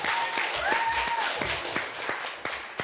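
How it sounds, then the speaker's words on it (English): Audience applause at a school storytelling event, a steady broadband wash of clapping with a few sharper claps standing out and a brief whistle-like tone early on, fairly close and continuous for the whole stretch. "Give another round of applause for Karina Bishop."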